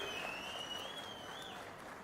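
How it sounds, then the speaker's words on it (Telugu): A crowd at a public event with Chief Minister Chandrababu Naidu claps, a faint, distant wash of applause with a thin whistling tone running over it. "గట్టిగా చప్పట్లు కొట్టి అభినందించండి"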